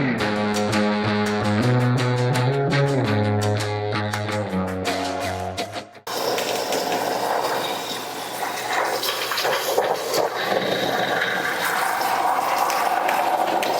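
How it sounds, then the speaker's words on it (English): Water pours steadily into a container while beeswax from a horizontal beehive is being rendered, a continuous gushing fill that follows a stretch of musical tones and runs loud and close to the end. "I'm adding water."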